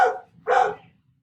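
A dog barks twice nearby, two short sharp yaps about half a second apart, clear and fairly loud in an otherwise quiet indoor room.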